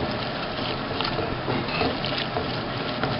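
Water pours into a pan of masala for cooking rice, a steady, close rushing splash that holds evenly from start to finish.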